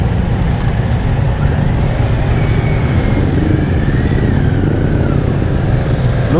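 A sports bike engine runs with a loud, close, continuous drone, its pitch drifting slightly up and down without any talk.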